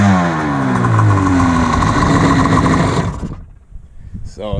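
A DASA engine in a jetski fires up and runs loud and close with a buzzing two-stroke drone of steady harmonics for about three seconds, then cuts off, leaving faint mechanical ticks and a brief voice.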